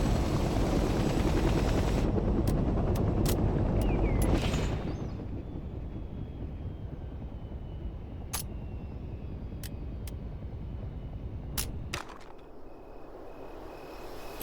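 Transport helicopter rotor and engine roar from the Vietnam-era video game Hell Let Loose: Vietnam, loud and dense at first and then easing to a lower steady drone, crossed by several sharp isolated cracks of gunfire.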